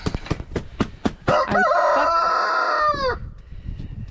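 On a homestead in the morning as chickens are let out, a rooster crows loudly and close by after several short, sharp clucks, then quieter clucking continues at the end.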